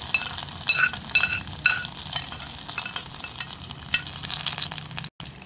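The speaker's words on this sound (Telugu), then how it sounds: "ఇప్పుడు మనం ప్రిపేర్ చేసుకున్న తిరుమాతని ఈ మజ్జిగ దాంట్లో వేస్తున్నామండి" Curry-leaf tempering poured into buttermilk for curd vada, a steady soft sizzling hiss with a few faint crackles, moderately quiet and close, briefly cutting out near the end.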